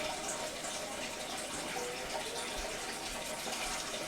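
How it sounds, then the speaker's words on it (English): A steady, dense rush of water pours into a container for a deer jerky cure mix, continuous and close throughout with no talk. "We're gonna go ahead and add our water in."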